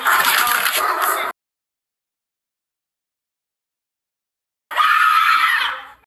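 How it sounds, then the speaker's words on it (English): A woman screams in distress: two long, piercing, high-pitched screams, each lasting over a second, loud and close, separated by several seconds of dead silence. "You can actually hear her heart breaking scream like that"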